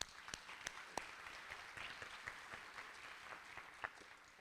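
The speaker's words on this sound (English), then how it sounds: "One more round of applause." Applause from an audience at a hotel luncheon during an annual meeting, a faint, thin patter of scattered clapping with a few sharper individual claps standing out, fairly distant and without speech.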